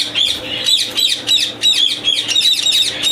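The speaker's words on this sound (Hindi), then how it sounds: "रिंग नेक भी हैं, वाइट येलो रिंग नेक।" White and yellow ringneck parrots squawk and chatter at a breeding farm in Faisalabad, a dense run of sharp, repeated shrill calls from several birds close by, with no talk.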